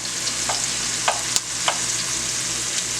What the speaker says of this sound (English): Take my other fish, dust it off nicely, lay it right here in the oil.